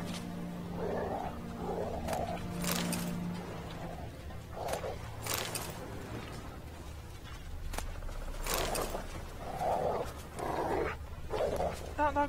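A dog in The Witcher 3 video game barks repeatedly in short, uneven bursts over a low background hum, fairly distant and not very loud.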